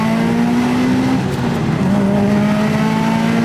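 A Subaru Impreza STI S203 pulls hard from a rolling start, its engine note droning loud and close and climbing steadily in pitch, with a brief dip as a gear changes and no speech.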